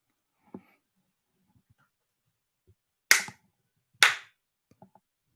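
Two sharp, loud claps about a second apart from a clapper in a quiet room, framed by a few faint small knocks and clicks.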